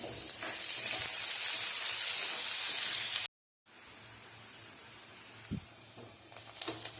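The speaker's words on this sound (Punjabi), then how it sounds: "ਨਾਲ ਹੀ ਪਾਵਾਂਗੇ ਜੀ ਪਿਆਜ਼ ਪਿਆਜ਼ ਆਪਾਂ ਨੇ ਜ਼ਿਆਦਾ ਬਰਾਊਨ ਨਹੀਂ ਕਰਨੇ ਹਲਕੇ ਜਿਹੇ ਰੋਸਟ ਕਰਨੇ ਆ" Onions sizzle steadily in a hot pan with cumin, being lightly roasted rather than browned, a dense frying hiss that cuts out briefly and then carries on a little softer, with faint stirring near the end.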